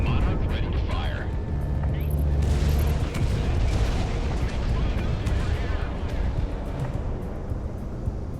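Dense, continuous rumbling booms and explosive blasts from missile fire in the Project Wingman flight combat game, loud and sustained, with a commentator talking over parts of it.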